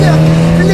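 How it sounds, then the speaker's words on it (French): A Mini John Cooper Works with a valved exhaust holds a loud, steady engine drone at close range for a brief moment, without any clear rise or fall in pitch. "je voulais absolument cet échappement à clapet"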